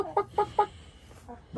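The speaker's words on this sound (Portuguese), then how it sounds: "Tá até galinha aí, pai? Até galinha tem" A chicken on a farm clucks in three quick, evenly spaced calls close by, followed by a few softer clucks, with no other sound.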